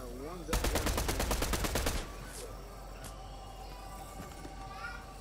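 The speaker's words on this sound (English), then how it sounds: "This Golas rifle does like 23 damage and shoots like 3 bullets a second" A rapid, steady burst of Golas rifle fire in Fortnite, roughly a dozen evenly spaced shots lasting about a second and a half, followed by quieter game ambience with a few faint distant cracks.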